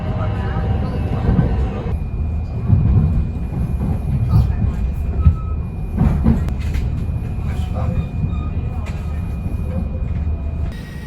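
A train rumbles into Chester station, a steady low mechanical drone with rattling and faint squealing over a busy, continuous bed of noise.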